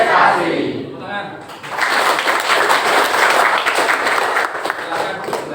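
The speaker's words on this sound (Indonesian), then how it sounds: "Tepuk tangan." Secondary school students clapping together in a classroom, a dense, steady burst of applause that starts after a brief voice and holds for several seconds, close and full.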